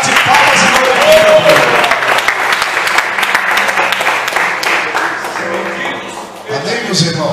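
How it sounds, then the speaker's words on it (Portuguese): Church congregation clapping hands during a Portuguese-language worship service, loud dense crowd applause with sharp individual claps, continuing with voices and sound from the room mixed in, easing briefly near the end before swelling again. "Bate palmas e glória."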